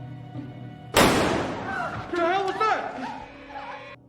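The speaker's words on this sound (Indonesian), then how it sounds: "terdengar suara tembakan" A single gunshot in a heist film scene, a sudden sharp loud crack that decays over a second, followed by dramatic music and voices in the background.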